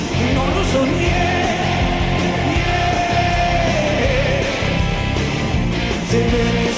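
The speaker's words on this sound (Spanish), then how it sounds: "Se los regalo, gente, disfruten, escuchen, muy linda canción." A recorded Spanish-language song plays continuously and loudly, with a sung vocal melody over dense instrumental backing throughout.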